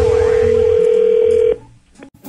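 A loud, steady telephone dial tone holds for about a second and a half, then cuts off into quiet line noise and faint clicks, as if a call is being placed.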